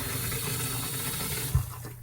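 Water running through the plumbing lines of a Jayco Northpoint 377RLBH fifth wheel RV, a steady rushing flow with a brief knock near the end.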